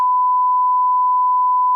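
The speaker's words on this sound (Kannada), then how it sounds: "ಎಡಿಟರ್ ಇದನ್ನ ಯಾವುದೇ ಕಾರಣಕ್ಕೂ ಬೀಪ್ ಆಗ್ತಾರೆ" A steady electronic censor beep dropped in during editing, one continuous pure tone that runs unbroken for about two seconds, loud and clean with no voices underneath.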